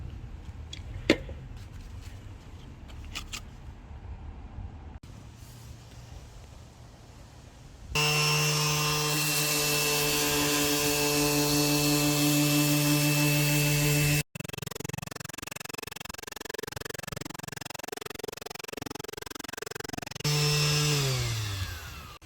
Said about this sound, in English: Makita orbital disc sander, 125 mil.